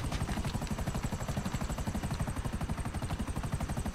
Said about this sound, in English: I'm seeing multiple helicopters out now.